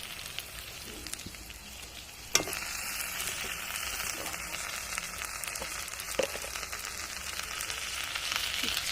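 Goat meat fries in spice paste in a pan, a continuous soft crackling sizzle with occasional clinks of a utensil and a slight swell toward the end, no voices.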